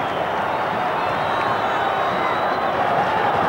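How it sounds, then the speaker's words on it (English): A rugby crowd roars after a try by Robert Du Preez, a dense, sustained wall of cheering and shouting that stays loud and steady throughout. "Once again, the crowd going absolutely mad."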